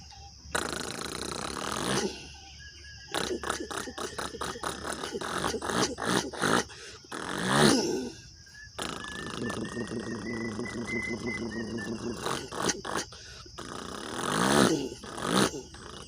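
A person's voice mimics a tractor, with rhythmic sputtering, chugging bursts and growling revs repeated in several stretches with brief pauses between.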